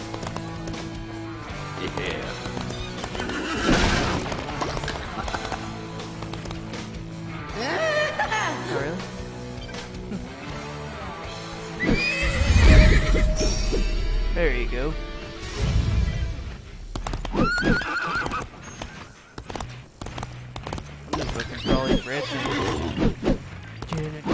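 Horse neighs and whinnies in the Disney Infinity video game on Wii U, Lone Ranger setting, with hooves clip-clopping, a loud whinny near the middle, all set over game music and someone talking throughout.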